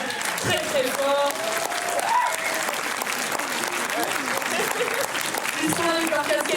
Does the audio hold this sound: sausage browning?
no